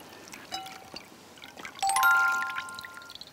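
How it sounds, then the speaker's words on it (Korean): Cooked food is dipped into a bowl of cold water in a kitchen, a brief soft splash and pour with light water movement and clinks of a dish, moderately close. "찬물에 한번 이렇게 담가 주는 거죠."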